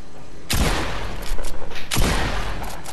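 Two loud, sharp blasts from the original pump shotgun in a Fortnite Creative match, spaced about one and a half seconds apart, each with a short ringing tail and no talking.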